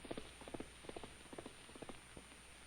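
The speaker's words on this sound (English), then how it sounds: "rides bareback up through the forest trails." Horse hooves clip-clop along a forest trail while a rider sits bareback, the steady near footfalls rising in uneven pairs and triplets over a quiet background.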